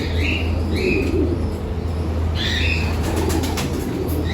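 Pigeons in a loft aviary colony, with chirps and calls breaking out over a constant low hum, and a flurry of wing flapping and rustling near the middle.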